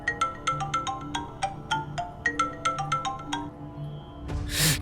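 A mobile phone ringtone plays a bright repeating melodic pattern of quick chiming notes, loud and close, cycling twice before cutting off into a burst of rustling noise.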